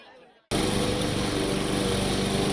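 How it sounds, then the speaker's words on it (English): A lawn mower cuts grass, cutting in abruptly after a brief quiet moment and then holding a loud, steady, buzzing engine drone close to the microphone. "The hot weather isn't stopping 10-year-old Tyron Bell from cutting the grass"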